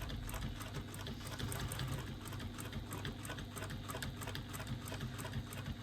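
Sewing machine quilting fabric, a continuous, even, rapid stitching hum with steady needle pulses throughout, close but fairly soft.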